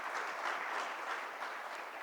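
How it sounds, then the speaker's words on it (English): An indoor audience at a summit lounge event applauds, a dense, even wash of clapping hands that holds steady throughout with no voices over it. "Can we give ourselves a round of applause,"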